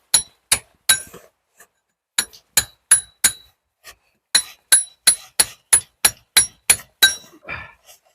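Steel chisel struck by a hammer against brick and stonework around a lintel, a loud, close series of sharp metallic clinks in uneven bursts with short pauses, no talking.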